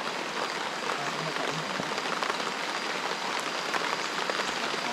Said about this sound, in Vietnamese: Mưa lớn chứ mà mưa nhỏ đâu.